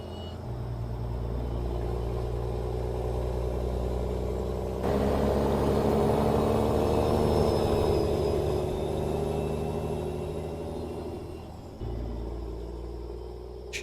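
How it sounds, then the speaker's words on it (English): Steady road traffic rumbles and drones throughout a drive in American Truck Simulator, with a louder swell in the middle section and no talking. "that traffic's a little loud and obnoxious"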